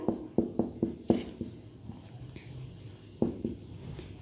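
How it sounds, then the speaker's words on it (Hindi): Chalk or marker writing on a board during a biology lesson, a burst of quick, close taps and scratches in a rhythmic run, then a pause and a couple more strokes. "थर्ड मैं यहाँ पे लिख देती हूँ"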